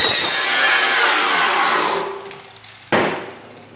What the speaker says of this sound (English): I'm going to go ahead now and grind all this up.